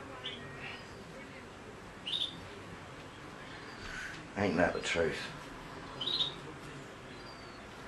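Pet parrot giving a few short, high chirps and a louder squawking burst, spread across the moment over a quiet room while people talk.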